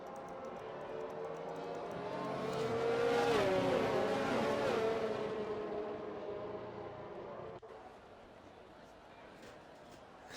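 Race cars on the Circuit de Catalunya in Barcelona in a racing video game, engines swelling as the cars approach and pass, then fading away, with a commentator talking throughout.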